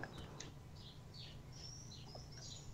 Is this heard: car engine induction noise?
no